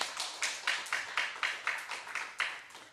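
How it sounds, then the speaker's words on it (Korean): Church congregation clapping in a steady rhythm, about a dozen crisp, evenly spaced claps from many hands together, moderately near and without other sounds. "하나님께 영광의 박수 돌리겠습니다"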